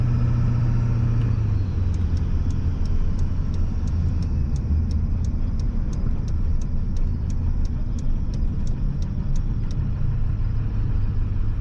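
A 7.3 Powerstroke diesel truck rolls along and pulls over, its steady low engine rumble filling the cabin, with a rapid series of light ticking clicks like a turn signal partway through.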